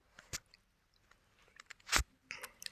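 Someone chews food close by with soft crunches and squishy bites in an irregular rhythm, including one louder crunchy bite, in a quiet room without talk.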